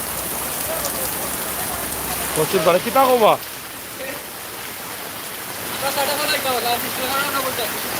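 Heavy night rain falls in Sylhet, Bangladesh, a dense, steady hiss of water pouring down throughout. Someone talks over it in short bursts.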